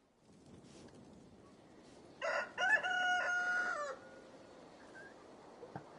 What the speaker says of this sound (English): Just a random ass cockerel.